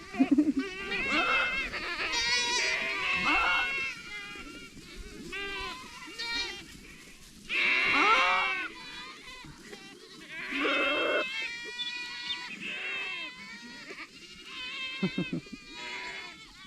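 Goats bleat repeatedly, several overlapping calls of varying pitch, fairly close and loud, with a faint background of insects.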